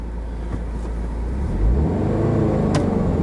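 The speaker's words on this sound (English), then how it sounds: "Wow, I revved it up to 3 grand there." A car engine revs up from idle to about 3,000 rpm, rising to a louder rumbling roar that holds steady, heard close from inside the vehicle.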